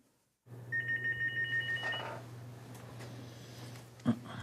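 A hospital telephone rings with a call from the operating theatre: one short burst of rapid electronic trilling, fairly quiet, followed by a low steady hum and a brief knock.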